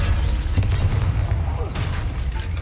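Bombarda and Confringo spell explosions in the video game Hogwarts Legacy, a deep rumbling boom that rolls on continuously with crackling bursts on top, loud and close.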